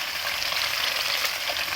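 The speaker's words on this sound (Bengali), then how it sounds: "এই যে মাছ ভাজছে এখানে, এটা হলো রুই মাছ" Pieces of rohu fish fry in hot oil on a wood-fired stove, giving a brief, close, steady crackling sizzle.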